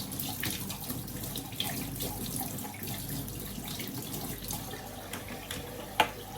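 Hot water runs steadily from a tap onto a vacuum-mop filter being rinsed, a constant gushing splash with a few small knocks and one sharp clatter near the end.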